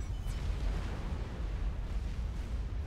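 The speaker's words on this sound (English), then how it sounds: "And there goes Dorset, taken out by the artillery." A low, rumbling artillery explosion in the real-time strategy game Supreme Commander, a sustained roar of noise that holds steady across the whole stretch without a sharp attack, heard alone.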